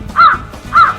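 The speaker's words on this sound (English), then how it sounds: "crow" A crow gives two harsh, close caws about half a second apart, with nothing else behind them.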